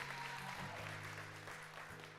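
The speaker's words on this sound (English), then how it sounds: "Round of applause, that's something to be super grateful for." Quiet applause from a church congregation at a Sunday service, a soft continuous patter heard faintly over a steady low hum in the room.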